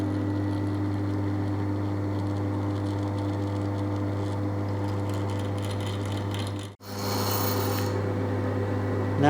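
A hand reamer is worked by hand through oiled metal, giving a steady, close rasping scrape that continues without break over a constant low hum, with one brief pause near the end.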